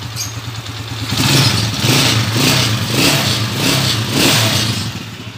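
Motorcycle engine revving while warming up, loud and close, with repeated rising and falling throttle blips over a rough, clattery idle and no talk.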